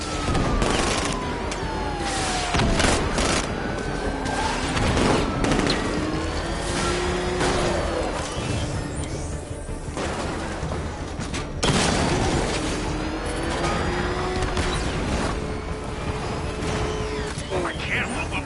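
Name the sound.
gunfire and explosions in Batman video game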